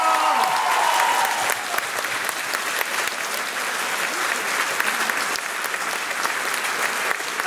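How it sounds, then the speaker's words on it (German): Audience applauding at the closing event of the 2018 state garden show in Burg, a broad, sustained round of clapping with a brief voice at the start, then even crowd applause throughout. "Das ist euer Applaus."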